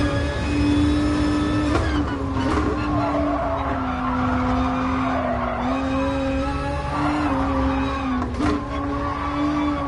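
Race car in GT Sport, an FIA GTC Manufacturers Series round, with its left-hand tyres squealing on a long sweeping corner under a loud, steady engine drone, the tyre whine wavering throughout.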